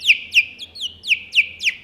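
A voice artist imitates lovebirds chirping: a series of seven sharp, high, sweeping tweets in an even rhythm, close and loud, with no other sound between them.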